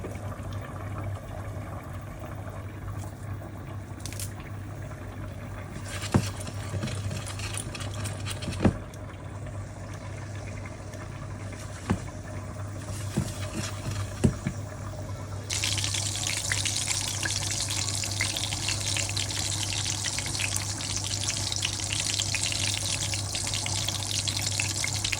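Cumin and red chilli crackle and hiss in hot oil for a tempering. Faint scattered pops come first, then a loud, steady sizzle for the last ten seconds over a constant low hum.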